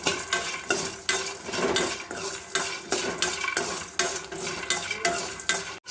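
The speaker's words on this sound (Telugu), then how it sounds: "శనగబ్యాళ్ళు కూడా ఫ్రై చేసుకోవాలి." Chana dal and peanuts fry in a pan while a spoon stirs steadily, giving continuous sizzling broken by repeated close scraping and clinking strokes.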